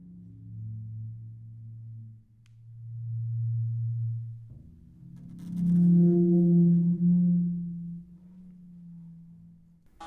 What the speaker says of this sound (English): this is a rubber ball mallet being rubbed against the Odaiko, creating sort of like a whale sound.